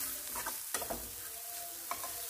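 Onion, ginger, garlic, salt, turmeric, Kashmiri red chilli and garam masala frying in a pan for palak paneer, with steady sizzling and occasional scraping stirs, quiet and close, no talking.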